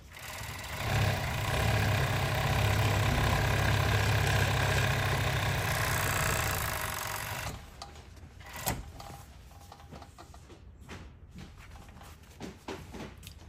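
A Juki MO-6816S serger sewing denim with T70 bonded nylon thread, running with a steady loud mechanical whir for about seven seconds, then stopping and leaving quieter handling clicks and thumps.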